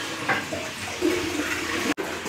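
A toilet flush tank in a washroom releases a steady rushing gush of water at close range, continuing without pause before a brief abrupt cut near the end.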